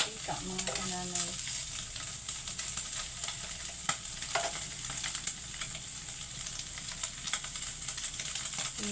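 Pork fat renders and fries in its own oil for monggo, making a constant crackling sizzle with fine spitting pops throughout, heard up close and alone.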